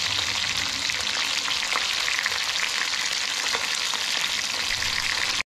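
Tilapia fries in a pan with a steady, dense crackling sizzle that stays loud and even throughout, heard close up, then cuts off abruptly at the end.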